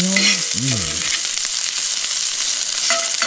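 Pieces of grouse meat fry loudly in butter and oil, a dense close sizzle and spatter throughout, with a short bird-like warble at the start.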